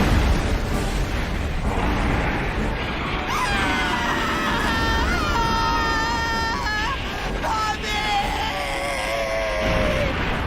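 Fire breath of a kaiju monster in the Showa-era Godzilla parody film Death Kappa, a loud sustained roaring rush with shrieking, wailing tones rising over it, continuous for about ten seconds with no talk.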